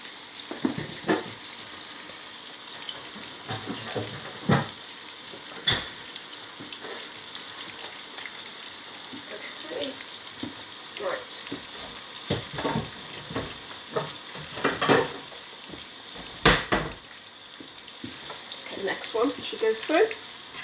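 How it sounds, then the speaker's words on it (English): Cauliflower sizzles and crackles steadily in a hot pan, with occasional stirring scrapes and clatters while people talk over it. "that cauliflower was frying for a minute, 2 minutes"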